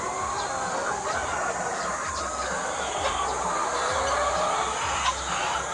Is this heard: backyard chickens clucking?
yes